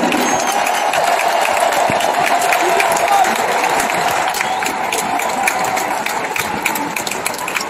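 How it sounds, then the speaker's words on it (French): Sustained applause from a large audience fills a campaign rally hall for a presidential candidate, a loud, dense clatter of hands that continues evenly throughout, with a voice heard faintly beneath it. "Oui, vous pouvez les applaudir."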